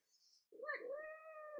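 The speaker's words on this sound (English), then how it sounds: "What's Kitty have to say?" A cat meows once, a long drawn-out harmonic cry close to the microphone, preceded by a faint high squeak.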